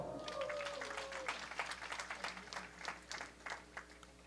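Audience applause for community members at a spiritual discourse gathering, scattered claps that grow into a sparse, rhythmic patter, fairly faint and distant, after a fading tone at the start.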